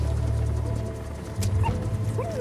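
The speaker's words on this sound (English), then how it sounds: "Here's the dog you brought back." A puppy in the Metal Gear Solid V video game whimpers and gives a few short, high yips and soft barks, close and fairly loud over a low steady game background hum.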